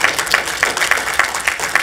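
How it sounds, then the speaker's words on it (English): A church congregation claps in praise, loud, close, rhythmic hand claps in an even beat of roughly three per second with no talk over them. "Let's give him a hand clap of praise."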